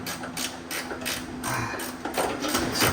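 Small stubby wrench ratcheting on a bolt of a 1983 Honda Civic 1.5L EM1 engine under rebuild, a close series of quick metallic clicks in repeated bursts at a steady rhythm.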